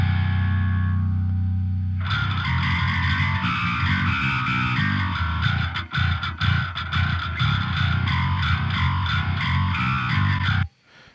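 Electric guitar through a Fortin amp with high distortion and gain, quiet hum at first, then loud, saturated chords and riffs with choppy rhythmic stops, cutting off abruptly at the end.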